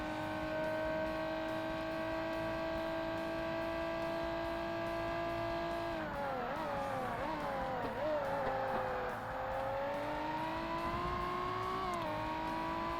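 Race car in the Forza Motorsport video game, a steady high-pitched engine drone that dips and climbs through gear changes and cornering, with tire noise mixed in, continuous and close throughout.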